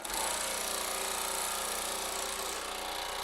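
A Baileigh PH-19 power hammer runs at a fast, steady hammering rhythm, giving a loud, continuous mechanical pounding with no talk.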